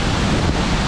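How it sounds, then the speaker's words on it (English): Dense, roaring wind noise buffets the microphone nonstop at a waterfall in Khao Yai National Park, Thailand, blended with the broad rush of falling water nearby. "the wind is really whipping right here"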